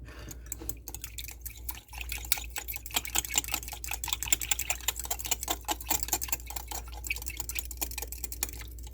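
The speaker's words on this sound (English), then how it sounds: "we're just going to mix this up really well" Quiet, rapid clicking and tapping of low carb pita bread dough with garlic powder being mixed in a bowl, a steady, busy patter of small contact sounds over a low hum, with no voices.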